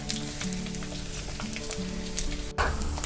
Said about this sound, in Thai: ดี๋ยวอันนี้เดี๋ยวเราทอดต่ออีกหน่อยนึงเนาะ